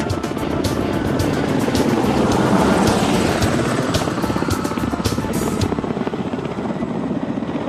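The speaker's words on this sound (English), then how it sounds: "Ka-25 submarine Hunter starts off from the deck of the aircraft-carrying cruiser to perform a demo flight" A Ka-25 anti-submarine helicopter lifts off from the deck of an aircraft-carrying cruiser, its rotor drone loud and steady with rapid blade thumping throughout, alone without voices.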